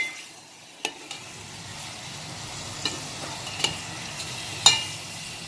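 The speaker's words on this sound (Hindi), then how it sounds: "ये देखें, सौते हो रहा है। मैं थोड़ा फ्लेम तेज़ कर दूँ" Mutton and masala for chukandar gosht sauté in a pan over a raised flame, giving a steady soft sizzle broken by several sharp clinks and scrapes of a spoon stirring.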